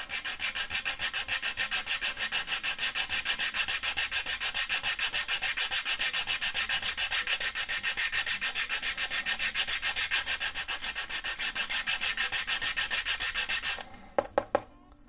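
Rapid back-and-forth rasping of 120-grit sandpaper on a wooden model-rocket fin edge, a steady scratchy rhythm close by that stops near the end, followed by a few light knocks.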